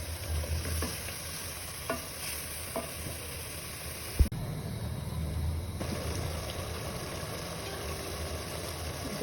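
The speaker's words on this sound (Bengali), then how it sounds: "মাংস কষাইতে লাগে।" Beef being stir-fried into kosha in a pan, a steady close sizzle with occasional scraping stirs and one sharp knock of the utensil against the pan, with no voices.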